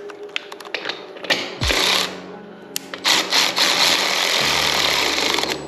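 A Milwaukee power tool driving bolts into a Harley Sportster seat: several sharp clicks and taps, then loud whirring runs of the motor that stop and restart, ending in a long continuous buzz.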